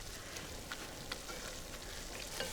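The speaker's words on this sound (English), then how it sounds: "I love the vinegar when it hits the hot pan." Onions frying as vinegar hits a hot pan, giving a soft, steady sizzle with faint crackles, fairly quiet and heard alone without talk.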